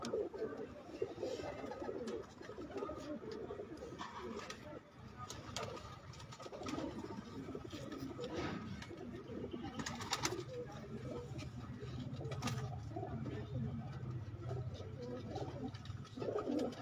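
Pigeons coo softly and repeatedly at a loft. The low, throaty calls sit under a murmur of distant voices and faint background noise.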